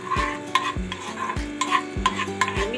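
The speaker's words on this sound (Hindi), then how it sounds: "जीरे को मैंने इसके अंदर फ्राई करना है" Cumin seeds fry in melted butter, a steady soft sizzle with occasional stirring clinks, heard beneath background music with a strong bass line.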